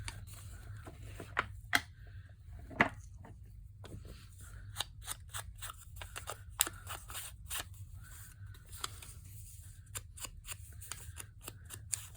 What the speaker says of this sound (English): Let me cut out one more piece of article, put it over here.